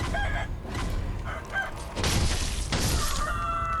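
Chickens in the game Sekiro, squawking and clucking in short agitated bursts amid crashing, shattering hits, loud and close throughout.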